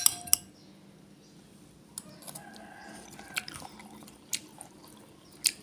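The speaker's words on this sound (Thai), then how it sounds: "เดี๋ยวขออนุญาตชิมรสก่อนนะคะ" Thai laab being tasted and eaten with cutlery, a few sharp clinks of a spoon against a plate spaced through the quiet, with soft chewing and squishy mouth sounds in between, close and without talk.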